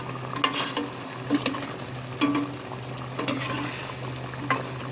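Chicken curry is stirred in a pot with a spoon scraping at a steady pace, while a low simmering bubble runs beneath the irregular clinks and scrapes; no one talks.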